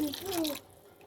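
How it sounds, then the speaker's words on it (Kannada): Water poured into toor dal in a cooking pot, a short splashing pour lasting about half a second that then drops away to quiet. "ಒಂದು ಸ್ವಲ್ಪ ನೀರು ಹಾಕೋರಿ"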